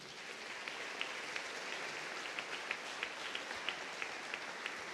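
Church congregation clapping together, a faint, steady patter of many hands with scattered sharper claps, somewhat distant in a large room.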